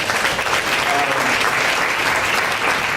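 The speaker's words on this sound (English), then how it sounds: "Give her a round of applause." Steady, dense applause from a large audience at a scholarship and awards gala, loud and continuous throughout with no break.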